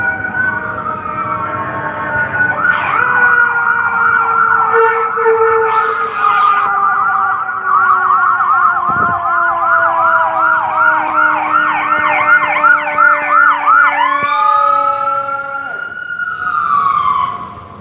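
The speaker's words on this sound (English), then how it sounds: "there's more sirens" A loud wailing siren sweeps up and down repeatedly alongside a steady high tone, as emergency vehicles pass close by for several seconds during a street protest in Austin.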